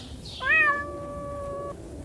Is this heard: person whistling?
no